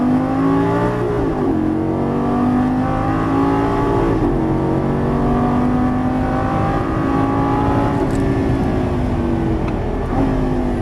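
A Lamborghini Gallardo LP550 accelerating on a racing track, its engine a loud, steady close-up roar with pitch rising and dipping as it revs through gears, no talk over it.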